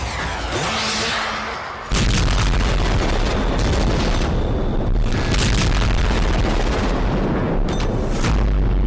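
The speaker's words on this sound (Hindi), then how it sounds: "रूस ने यूक्रेन पर एक ही रात 34 मिसाइलों से हमला कर दिया।" Russian missile strikes exploding in Ukraine, with a sudden loud, heavy boom after a quieter start, then sustained roaring blast noise and further impacts, dense and overwhelming throughout.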